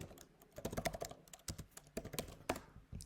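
Rapid keystrokes on a computer keyboard as a new name is typed into a Postman environment field, a close burst of irregular taps with brief pauses, no voices.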